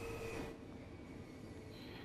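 A passenger train in Train Sim World 6 brakes, with a thin steady whine and squealing wheels over a low rolling rumble, fairly quiet and continuous.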